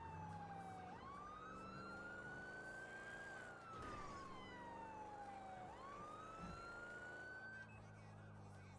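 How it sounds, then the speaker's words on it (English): Police car siren wailing nearby, its tone sweeping up and down in long cycles over traffic noise, with no talk heard. "You can kill your siren."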